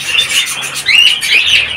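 A pair of golden mantle rosellas in a breeding aviary call loudly and close, trading bright, repeated whistling chirps in quick bursts with short gaps.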